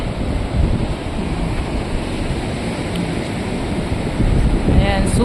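Sea surf rolls in steadily and close, with heavy wind buffeting across the whole stretch, on a cold day at the Alassio shore in Liguria, in front of the hotels along the beach.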